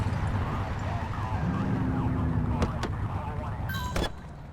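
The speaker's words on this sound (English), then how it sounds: "Get behind them and flip the siren to make them pull over" A police car siren from the video game The Precinct wails over continuous traffic and engine noise, with a rising-falling tone partway through and brief electronic blips near the end, and a voice talking over the scene.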